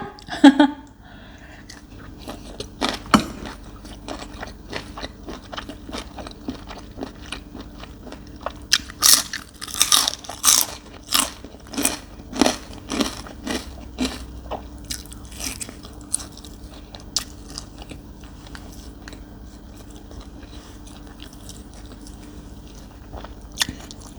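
Close crunchy bites and wet chewing of Korat-style Thai papaya salad with squid, eaten with blanched luffa shoots, repeating in irregular bursts over a quiet room background.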